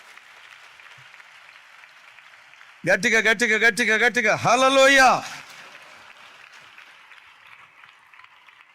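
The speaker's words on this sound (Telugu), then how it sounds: "చప్పట్లు కొడుతూ దేవునికి స్తోత్రాలు చెప్దాం" A church congregation claps steadily while praising God during a sermon, a continuous wash of clapping running underneath a loud voice that shouts out over it in the middle.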